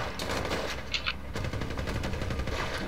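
GTA V gunfire, dense rapid shots and automatic bursts crackling close and loud for the whole stretch without pause.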